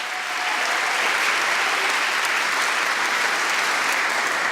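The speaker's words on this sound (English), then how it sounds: "A massive round of applause for the two best co-chairs of JEDx 2018, Tamar and Mitch." Loud, dense audience applause at a JEDx 2018 event, continuous clapping from a large crowd that swells quickly and stays strong throughout.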